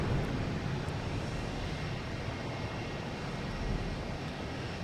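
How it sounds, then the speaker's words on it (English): Spirit Airlines Airbus A321 taking off at Boston Logan Airport, a steady broad jet engine roar heard from a distance, continuous and even throughout with no voices. "We have Spirit Airlines heading to Fort Lauderdale, an A321, flight 1301."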